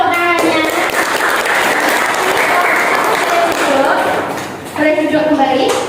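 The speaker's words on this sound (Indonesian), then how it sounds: "Beri tepuk tangannya." A classroom of students claps together in a lively burst of applause that holds steady for several seconds, with voices speaking at the start and end and a brief dip before the clapping resumes.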